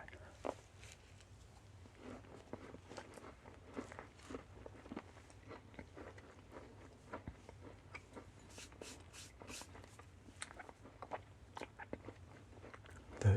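Sour green apple gum powder candy being chewed close to the mouth, with soft sticky crunches and wet mouth clicks in an irregular, steady stream, intimate and quiet.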